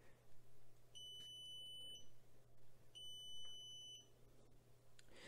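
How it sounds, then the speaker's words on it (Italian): Two bursts of rapid high-pitched electronic beeping from a Xiaomi Yi action camera's locator function, each lasting about a second, separated by a pause, over a steady low hum. "se ce l'avete collegata con wifi e non sapete dov'è lo premete ed eseguirà un beep"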